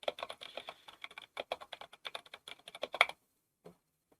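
Rapid typing on a regular computer keyboard, a dense run of close, crisp key clicks for about three seconds, then a couple of isolated taps before silence.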